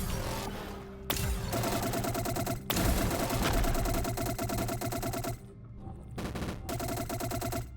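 Rapid bursts of automatic gunfire rattle from the video game Punk, firing in long continuous volleys broken by short pauses, loud and close, with game ambience and no talking.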